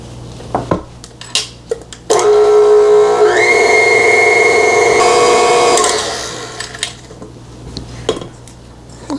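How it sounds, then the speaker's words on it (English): A stand mixer with its whisk attachment beats cupcake frosting, a loud steady whirring hum with a rising whine that holds for about four seconds before winding down, framed by clinks of utensils and bowl. "I really didn't know what the whisk attachment was for. Still don't, but it's doing a good job with this frosting."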